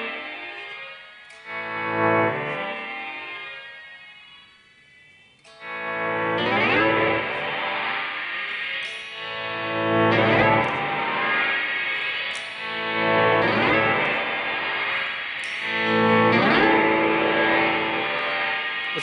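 Electric guitar played through an Earthquaker Devices Rainbow Machine pedal, repeated strummed chords swelling into shimmering, pitch-shifted chorus-like trails with echoing repeats, loud and alone with no talk.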